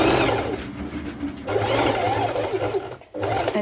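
A sewing machine runs in fast continuous bursts, stitching stretch fabric and elastic close to the edge for a sporty top, loud and near, with a brief pause before it resumes.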